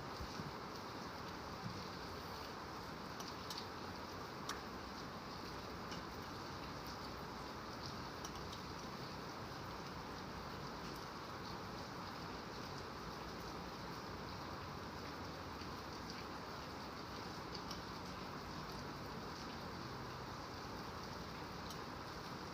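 Steady rain falls throughout, a constant dense hiss with no pauses, fairly close and even in loudness, with no voices.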